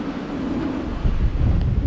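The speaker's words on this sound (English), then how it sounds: "See what the wind's like up here." Strong wind buffets a microphone on an exposed castle green above a quay, a steady broadband roar with low rumbling gusts that swell louder toward the end, no voices.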